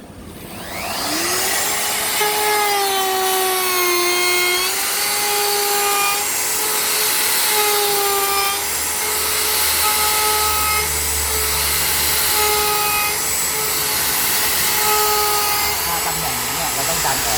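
A spinning router-style bit cuts along a wooden board edge, a steady high whine with a rising pitch at the start and a grinding cutting tone that holds for the whole stretch, loud and close.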